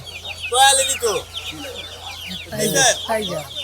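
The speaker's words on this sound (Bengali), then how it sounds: "দেখুন একটি মুরগি এটা কি জাতের মুরগি ভাই" A Tiger-breed hen clucks repeatedly nearby in short, choppy bursts at a market, with other fowl and faint voices around.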